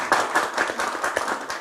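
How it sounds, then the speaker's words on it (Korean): A forum audience claps for a politician at the close of an event, a brief burst of fairly loud, dense clapping from a nearby crowd. "다시 한번 박수 부탁드리겠습니다."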